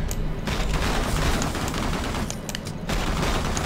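Dense, continuous rapid gunfire from Taskmaster's gun in the action game Marvel Heroes, a crackling stream of shots with brief dips, loud and alone without talk.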